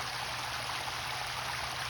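Water splashes and trickles over offset rocks in a backyard pond waterfall built to resemble a running brook, a steady, close, bright rushing hiss with no talking.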